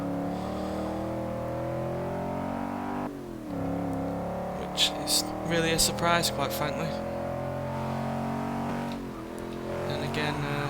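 A 1988 Holden VL Commodore Group A SV V8 in a racing game runs with a steady droning engine note under a voice, with brief revving bursts and shifts midway.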